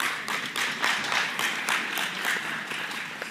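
Audience applause fills a mayoral candidates forum in Pontiac, a steady wash of many hands clapping at moderate distance, swelling and fading slightly over a few seconds with no talk over it.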